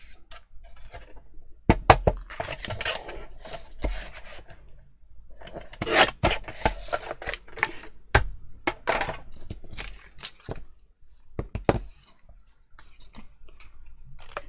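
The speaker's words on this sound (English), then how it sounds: "So let's trim this piece down now to 4 1/2." A paper trimmer cuts cardstock for a pop-up slider card, making a series of scraping, rasping slides with sharp clicks and pauses between strokes, close and fairly loud.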